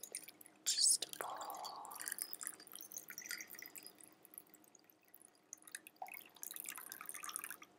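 Water being poured over a pile of seashells in a quiet room, a soft steady trickle and splash with light drips, close and gentle, with faint whispering in the background.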